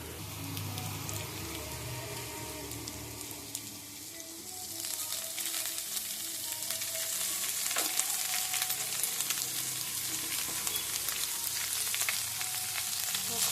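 Shredded tuna, choora meen, fries in a pan for puttu with a pepper paste, a steady close sizzle that swells louder and brighter partway through as the fish goes in, with occasional light scrapes and no voices.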